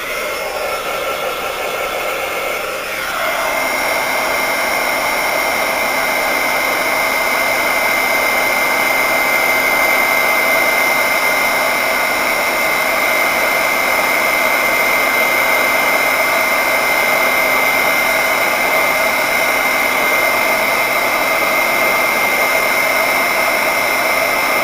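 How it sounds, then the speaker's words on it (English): A heat gun blows hot air to heat-set liquid Sculpey polymer clay on earring scraps, a loud steady whooshing roar that switches up in pitch after a few seconds and holds constant. "I'm just going to heat set those real quick."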